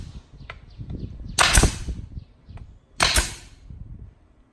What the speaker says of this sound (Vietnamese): Sau đây em sẽ bắn thử cho các anh em xem.